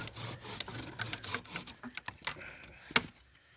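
A Tenju 240 mm hand saw with fine teeth cuts through thin branches about 25 mm thick, giving quick rasping back-and-forth strokes that are close and steady, with a final sharp snap near the end.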